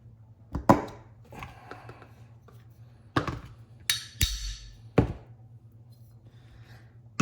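A wooden pin punch taps a pin out of a Sarsilmaz Kilinc 2000 Light pistol with several sharp, close knocks spaced irregularly amid quiet handling noises.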